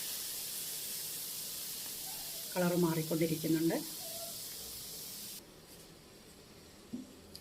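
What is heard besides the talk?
milk for payasam boiling and hissing in pan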